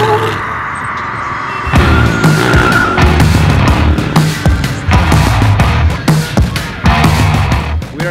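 Tires are burned and squeal hard, a loud, sustained screech with engine roar starting after a quieter opening and continuing with pulsing surges to the end.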